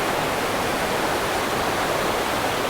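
A river rushes through dense, untouched forest beside a campsite, a steady broadband roar of flowing water that fills the whole stretch evenly and closely, with no voices over it.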